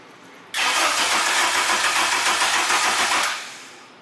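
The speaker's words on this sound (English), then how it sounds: "At least we got it to crank" A swapped Honda K24 engine cranks on its first start attempt, a loud steady starter whir that runs for about three seconds before fading away without catching.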